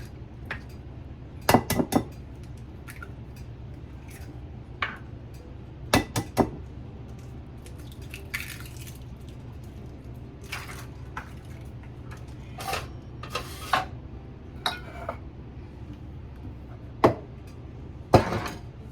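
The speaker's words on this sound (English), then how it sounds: "first of all, we're gonna crack out 3 eggs" Three eggs are cracked for a western omelet, with sharp knocks against a bowl edge coming in small clusters and separated by pauses, plus a few lighter clinks over a quiet kitchen hum.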